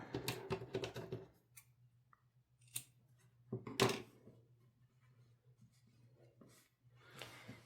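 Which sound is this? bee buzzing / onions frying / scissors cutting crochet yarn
scissors cutting crochet yarn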